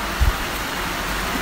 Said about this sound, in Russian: Ну вот ливень какой.